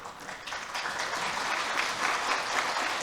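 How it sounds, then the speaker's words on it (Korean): Church congregation applauding during a Sunday worship service: dense, sustained clapping from a large crowd, swelling slightly after the start and holding steady. "제가 요구하지 않아도 너무나 좋아하는 마음으로 박수 주시니 감사합니다"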